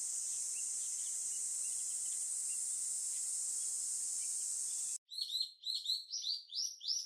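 Helmeted guinea fowl call in a rapid rhythmic series of harsh, repeated notes, starting abruptly after a steady shrill insect drone that fills the first several seconds.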